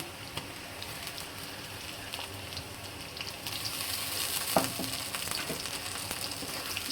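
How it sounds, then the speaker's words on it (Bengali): Ginger and garlic frying in a pan with onion and chili for a chicken curry, a steady broadband sizzle that grows slightly louder midway, with a few sharp spatters and light utensil contact and no talk. "আদা রসুনটা হালকা একটু ভাজা ভাজা করে তারপরে সব মশলাপাতি এক এক করে দিয়ে দেবো"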